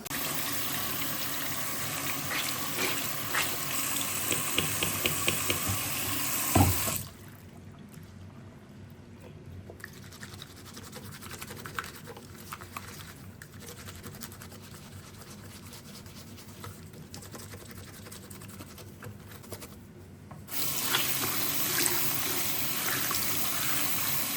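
Water from a kitchen tap gushes loudly while a makeup sponge is washed, then stops for a stretch of quieter handling noises and restarts near the end.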